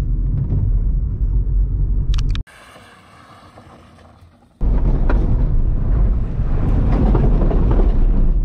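A Volkswagen Polo GT with a 1.0 TSI engine drifts, its engine roaring loud and close, dropping to a quieter hum for about two seconds mid-way before surging back to full volume.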